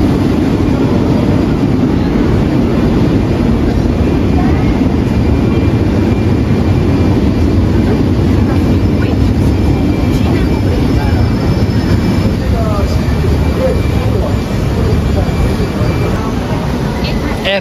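Bangkok Airport Rail Link train, a loud, steady rumble and roar of rolling stock lasting throughout, heard from close by without pauses.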